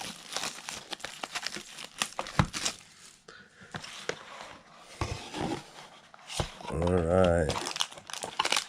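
Foil wrappers of 2020 Panini Contenders trading card packs being ripped open at close range, crinkling and tearing in bursts with a loud sustained rip near the end, with a person talking between them.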